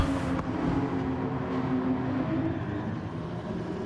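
A Porsche race car engine in Gran Turismo Sport drones steadily at high revs, a continuous buzzy tone with a slight pitch shift near the start, loud and unbroken, with no talking.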